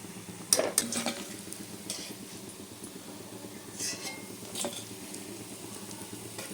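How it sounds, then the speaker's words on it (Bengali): Layered Puri khaja pastries frying in oil in a pan, a quiet steady sizzle with a few sharp clinks of a utensil against the pan, close by and without talk. "সেগুলি আমি আস্তে আস্তে ভেজে নেব"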